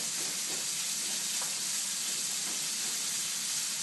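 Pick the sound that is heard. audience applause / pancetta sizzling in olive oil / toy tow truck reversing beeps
pancetta sizzling in olive oil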